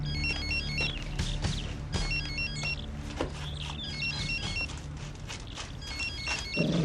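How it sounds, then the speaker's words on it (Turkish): A mobile phone rings in repeated bursts of a trilling electronic ringtone, steady and moderately loud, over background noise with some shuffling. "Bu tertibin cep telefonu herhalde"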